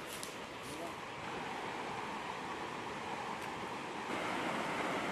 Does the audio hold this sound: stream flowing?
yes